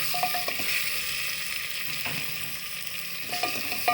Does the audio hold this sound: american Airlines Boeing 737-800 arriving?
no